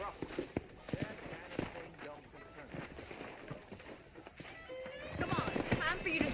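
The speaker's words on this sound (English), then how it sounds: "let's see if you can still ride a horse" Horse in the Red Dead Redemption video game on Xbox 360 clip-clopping along at a quickening pace, hoofbeats mixed with game sound effects and voices talking throughout.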